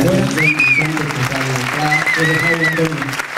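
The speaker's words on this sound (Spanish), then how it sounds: "otro aplauso y para ellos" Audience applause at a music album presentation in Ceutí, a steady wash of clapping with a musical tone and voices running through it.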